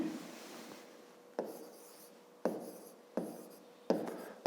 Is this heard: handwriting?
yes